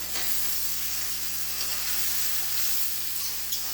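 Shrimp and vegetables frying in a pan, a steady close hiss of sizzling oil with faint stirring, over a constant low hum.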